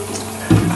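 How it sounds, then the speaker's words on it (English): Pump overflow water spills and flows steadily, a soft continuous wash that swells louder in the second half of the brief stretch. "I don't know if you can see that water flowing down there."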